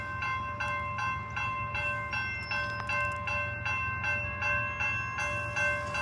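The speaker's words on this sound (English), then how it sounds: "You could actually hear the last remaining General Signals Type 1 E-bell in the background" A General Signals Type 1 electronic crossing bell dings steadily with sustained tones over the heavy low rumble of a passing train at a railroad crossing in Plymouth, Michigan.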